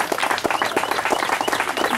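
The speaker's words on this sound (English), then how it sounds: "Let's give Robin another round of applause" Dense, steady applause from the crowd at a graveside honor service for Booker T. Washington in Tuskegee, loud and continuous throughout.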